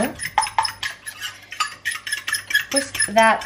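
A mixture is whisked in a bowl, quick rhythmic tapping and scraping strokes of utensil on the bowl in uneven bursts, close and fairly loud.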